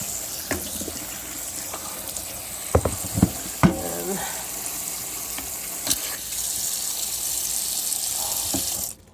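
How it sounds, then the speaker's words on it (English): Red beans are rinsed in a strainer with water, with a few sharp clatters and splashes early on, then a steady close stream of running water that runs for several seconds and cuts off abruptly at the end. "So just rinse the beans, put them in a strainer and rinse them out."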